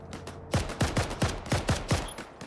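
Rapid bursts of gunfire in the Arma 3 military shooter, set in Takistan, with about eight sharp, loud shots at a steady rhythm over a couple of seconds and no talk.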